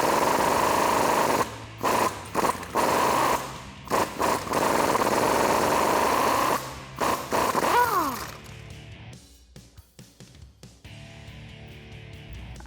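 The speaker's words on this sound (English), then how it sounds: "take off our axle side track bar bolt using a 21mm socket as well as an extension and an impact wrench" Pneumatic impact wrench with a 21mm socket and extension loosening the axle-side track bar bolt on a Jeep Wrangler JK, loud rattling hammering in several bursts, then quieter shop noise and a ratcheting spin-down.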